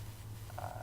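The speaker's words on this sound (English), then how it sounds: "the bit crusher makes this" Gritty synthesized bass from a Massive patch run through a bit crusher effect, one short sustained buzzing low note with a raspy, croaking edge, heard alone.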